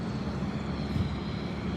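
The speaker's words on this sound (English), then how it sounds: "So it looks like they're bringing another helicopter in." A helicopter arriving to land at a motorcycle accident scene at a highway intersection, heard as a steady, moderately loud engine and rotor drone with a broad low rumble held throughout, no talk.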